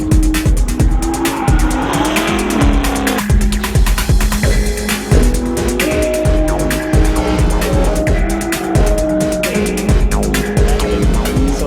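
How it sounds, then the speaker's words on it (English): Dodge Charger SRT8 drifting at Irwin Speedway, a loud, continuous engine roar with long wailing tire squeal that rises and shifts in pitch, close and dominant throughout. "we're at the House of Drift at Irwin Speedway today to test my new Dodge Charger SRT8"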